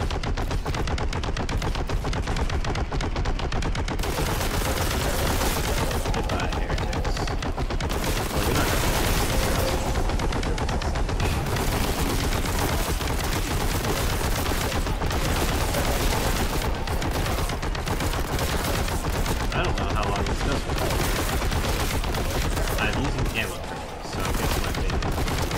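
Rapid bolt gun fire in the Warhammer 40,000: Boltgun shooter, loud and nearly continuous bursts of blasts and booms packed across the whole stretch, with a voice talking faintly underneath and a short break near the end.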